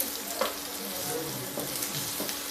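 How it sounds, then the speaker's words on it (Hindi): Onions with fennel seeds frying and being stirred in a pan, a steady soft sizzle with occasional brief stirring scrapes, close and fairly quiet with no talking. "इसके साथ ही प्याज भून देते हैं।"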